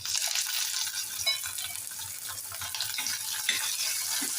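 Green chilies and finely chopped tomato sauté in a hot pan for a Goan prawn curry, giving a continuous close sizzle with soft stirring scrapes throughout.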